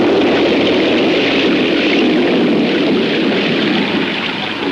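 A heavy rainstorm pounds a farm in a dense, continuous roar of rain, loud and steady with a deep rumbling undertone and no voices.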